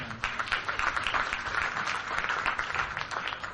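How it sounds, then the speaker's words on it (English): Steady applause from a crowd at an award ceremony, a dense continuous patter of many hands clapping at even loudness throughout. "Please, give an applause for the wonderful artist, Faye Lincoln."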